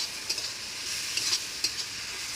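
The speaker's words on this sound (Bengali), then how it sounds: "আমি এর মধ্যে আলুটা দিয়ে ভাজা ভাজা করে নেব," Potatoes fry in an oily pan with onion, tomato and spices, a continuous crackling sizzle broken by brief scraping stirs, close and moderately loud with no voices.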